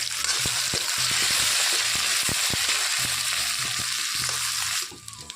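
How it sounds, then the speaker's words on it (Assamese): Boiled potatoes and onions fry in a pan with a loud, steady sizzle, punctuated by the scrape and knock of stirring, before the sizzle drops away near the end. "অলপ সময় লৰাই ভাজি ল'ম পিঁয়াজখিনি ৰঙাকৈ"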